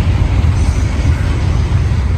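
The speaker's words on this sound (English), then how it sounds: "there goes a Shinkansen" A Shinkansen bullet train passes near a river with a loud, steady low roar and rumble that holds without a break through the whole moment.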